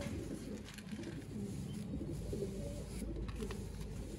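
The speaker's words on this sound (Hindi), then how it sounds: "लाल अख दे कबूतर" Red-eyed pigeons coo steadily in a loft, low soft murmuring calls overlapping continuously at close range, with no talking.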